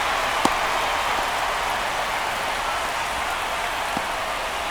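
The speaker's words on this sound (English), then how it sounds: "The rain is here, and it doesn't look like it's going away anytime soon." Rain pours steadily through a game delay in the baseball video game MLB The Show 25, with an even wash of falling rain from start to finish and a couple of faint ticks, no commentary voices.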